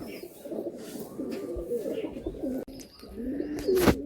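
Madrasi and Giribaz pigeons coo in a loft, with low, rolling throaty calls running almost continuously. A louder coo swells near the end, and faint background noise sits underneath.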